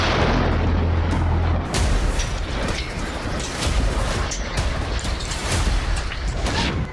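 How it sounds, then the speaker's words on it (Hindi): Israeli strike on Lebanon producing explosions, a loud rolling roar with repeated sharp cracks and booms over about seven seconds. "चौथा धमाका"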